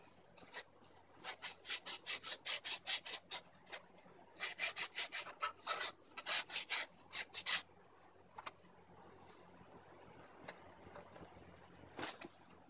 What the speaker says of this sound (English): I want to clean this post up a little bit, so I'm using some emery cloth.